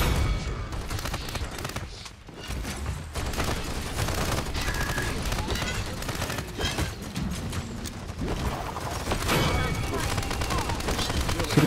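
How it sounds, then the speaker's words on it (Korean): Hero Viktor in the video game Paladins throws grenades and fires his gun, with rapid bursts of gunfire, explosions and mechanical clicks filling a dense, loud battle mix. A voice talks over the action throughout. "수류탄 맛 좀 봐라 이놈들아."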